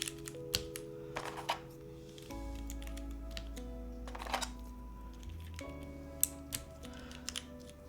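Keystrokes on a Kohaku mechanical keyboard with a bouncy polycarbonate plate and NovelKeys keycaps, a steady run of close, light clicks and clacks over a faint tonal hum.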